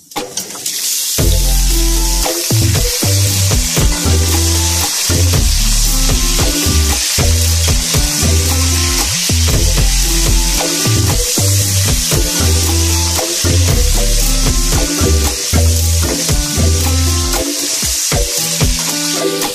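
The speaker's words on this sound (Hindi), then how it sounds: "लहसुन को 1-2 मिनट फ्राई करने के बाद अब हम इसके अंदर चिकन ऐड करेंगे।" Chicken sizzles in a pan with garlic, a steady broadband frying hiss running throughout, close and loud, with rhythmic background music layered over it and no talking.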